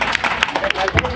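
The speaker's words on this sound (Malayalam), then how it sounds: "ഒരു കയ്യടി കൊടുക്കണം എല്ലാവരും." Applause at a taxi union gathering for the general secretary's daughter, who earned full A+ marks: quick, close claps repeating in a brisk rhythm with voices mixed in.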